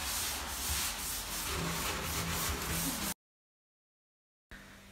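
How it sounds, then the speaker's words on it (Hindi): Scrubbing a bathtub with a sponge and bleach, a steady close rasping rub that runs for about three seconds, stops dead in silence, then resumes briefly. "बाथ टब की जो दीवारें हैं मतलब के आजू बाजू की वहाँ पर मैं थोड़ा सा ब्लीच लेकर घिस रही हूँ"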